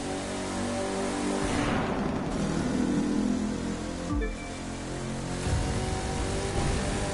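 Car in The Crew 2 accelerating hard on nitro during a race lap, a loud sustained engine roar and rushing whoosh that surges, dips briefly, then builds again, with no talk.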